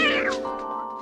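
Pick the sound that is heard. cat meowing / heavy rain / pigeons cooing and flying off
cat meowing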